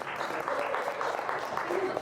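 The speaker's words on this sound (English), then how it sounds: "you can clap for that" Audience applause at an IMEX 2024 event panel, a soft continuous patter of many hands heard from a distance beneath a murmur of voices, fairly quiet throughout.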